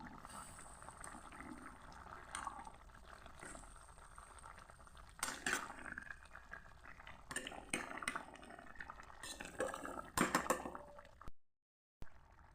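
Soup bubbling at a steady boil in a pot, with coriander leaves scattered on top in a village kitchen; a low, continuous burble with occasional clinks of a utensil against the pot.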